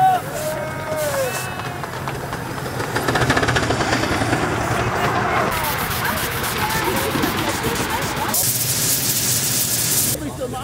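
A Märklin model tram runs on a Tübingen city railway layout, its small wheels clicking and rattling continuously on the track, with crowd chatter and voices underneath.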